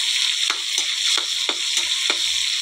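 Garlic sizzles steadily in a hot pan, a loud, bright frying hiss with a handful of sharp scrapes and stirs spaced about every half second, close up and without talk.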